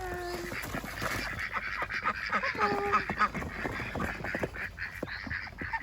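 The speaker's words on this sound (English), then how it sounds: "Okay, so now we've got the ducks onto the ground." Ducks just released onto the ground at a chateau, one of them dark with a green neck, quack and honk in a busy overlapping chorus nearby, with faint voices in the background.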